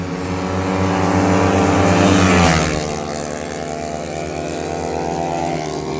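An automatic scooter rides a race circuit, its engine rising to a loud close pass and then settling into a steadier, fading drone.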